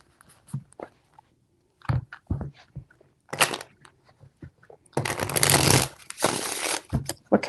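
Tarot cards are shuffled by hand in several short riffling bursts, the longest a dense crisp flutter lasting about a second, close and fairly loud with quiet gaps between.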